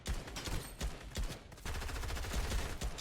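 Gunfire in a Fortnite match during a competitive tournament, a dense run of sharp shots and bursts with brief gaps, loud and close throughout without speech.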